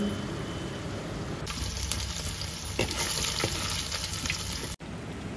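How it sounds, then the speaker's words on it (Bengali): Paneer cubes frying in hot oil in a home kitchen, a steady close sizzle with crackling pops and spatters that intensify midway, then a brief cut before the frying resumes. "এরকমভাবে আমি সমস্ত পনিরগুলোকে ভেজে নেবো"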